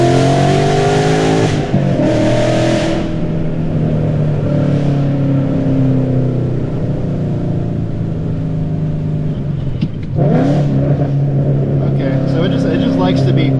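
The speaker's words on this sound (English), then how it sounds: "the exhaust note, it sounds like just about right. It's like it's not too raspy." A Ford Mustang S197 with a full exhaust revs loud and near, its engine rising and falling in long sweeps and dropping briefly twice, with people talking over it.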